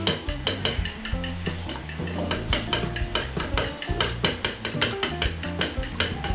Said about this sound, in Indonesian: Sekarang aku mau kocok dulu 4 butir telurnya